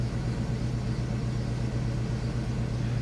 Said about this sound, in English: We're idling nicely.